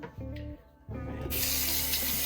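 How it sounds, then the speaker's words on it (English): A spray bottle misting a detangling mixture onto knotted hair, a short burst of bright hissing spray that starts partway through and holds steadily to the end, close to the listener. "Gonna spray a little mixture on it."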